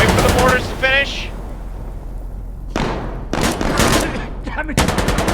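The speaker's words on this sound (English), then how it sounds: "Wait for the mortars to finish" Mortar barrage in the video game Insurgency: Sandstorm, heavy booming blasts and rumbling impacts rolling through the first seconds and returning later, with bursts of loud gunfire and a player talking over the action.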